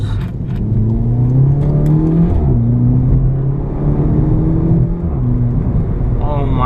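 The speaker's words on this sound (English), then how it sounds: "this exhaust is a bad boy exhaust" Volkswagen Polo GTI with an aftermarket exhaust revving while driving, a loud, close engine note rising and shifting through gears, with rumbling exhaust tone throughout and a brief dip and surge in pitch.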